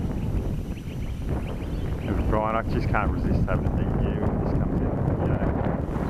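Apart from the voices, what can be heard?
wind on a windy day while flying RC helicopters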